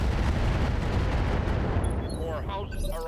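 A RogueTech mech weapon fired in improved mode, a heavy rumbling barrage of dense blasts that gradually thins out, with faint warbling electronic tones emerging at the end.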